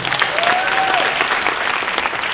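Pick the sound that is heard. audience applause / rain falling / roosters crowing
audience applause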